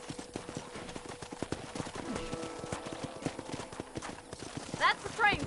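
Steady clip-clop of horse hooves on the ground in a PS4 video game, near and rhythmic throughout, with a horse whinnying briefly near the end and a voice talking over the hoofbeats.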